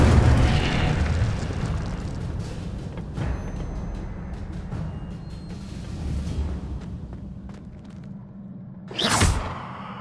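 Fire spell bursts in Hogwarts Legacy gameplay: a dense roaring rumble of magical flames and impacts fills the scene, ending with a sharp whooshing burst near the close.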